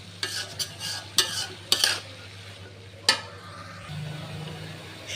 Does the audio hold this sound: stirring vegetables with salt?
yes